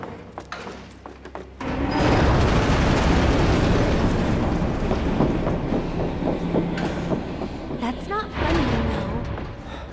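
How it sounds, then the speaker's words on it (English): A train pulls into the Sector 7 station in Final Fantasy 7 Remake, rushing in as a loud, sustained rumble and roar after a quieter opening second, with squeals and clanks toward the end. "This train will be stopping at the Sector 7 train."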